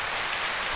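Heavy rain pours down steadily, a dense, even hiss of water hitting the ground with no pauses and no voices.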